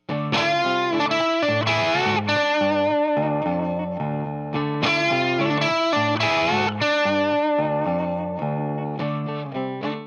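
Overdriven electric guitar plays a lively lead phrase with slides and held notes, repeated twice, loud and upfront with no talking.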